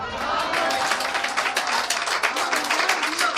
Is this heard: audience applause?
yes